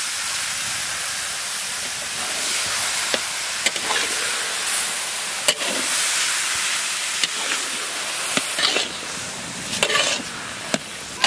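Boiled bottle gourd is tossed into a pan with fried carp fish head and stirred, giving a loud continuous steaming sizzle punctuated by scattered scraping knocks of the spatula.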